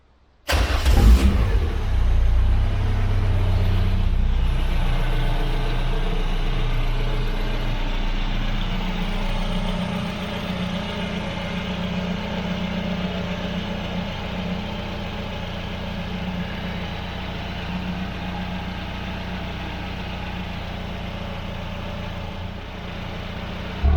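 A Renault Sport Spider engine cranks and fires up, then settles into a steady, loud idle that runs on alone for about twenty seconds.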